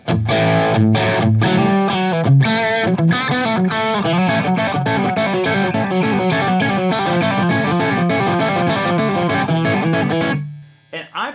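Loud electric guitar through a Bogner Ecstasy Mini overdrive pedal on medium gain, gritty distortion playing a busy run of notes and chords for about ten seconds, then cutting off abruptly.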